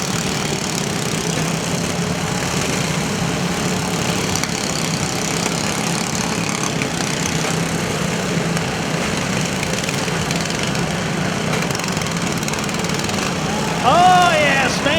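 Lawn mower engine running at a demolition derby at the Lawrence County Fair in Ohio, a steady loud drone with crowd and arena noise throughout, and a brief louder burst near the end.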